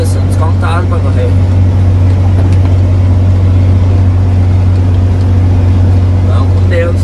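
Cars racing past on a road at night, heard as a steady loud engine drone with a strong low hum, passing whooshes and some faint voices throughout.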